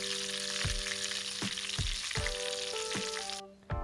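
Nendran banana chips frying in hot oil with turmeric, a dense steady sizzle with a few sharp stirring knocks spaced about every half second, close and loud, the bubbling easing off at the very end.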